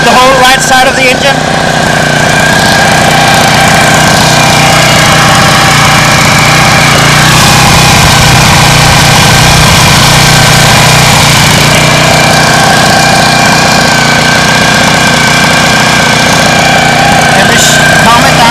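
Homemade outboard motor built from a lawn mower engine runs loud and close, a steady buzzing drone with constant harmonic hum, throttle barely changing over the stretch.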